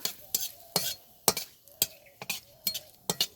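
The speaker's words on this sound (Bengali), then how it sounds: "হালকা করে একটু কারি পাতাটা ভেজে নেব" Curry leaves fry in oil over a medium flame, heard as a quiet stirring rhythm: repeated short scrapes and light clinks of a spoon against the pan, about a dozen strokes over a faint sizzle.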